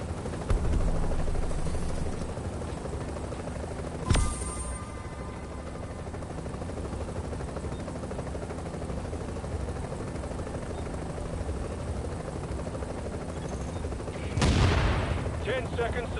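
A helicopter in The Division roars with continuous rotor wash, punctuated by two sharp bursts like gunfire, while voices talk over it.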